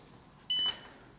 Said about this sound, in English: So it's working and beeping.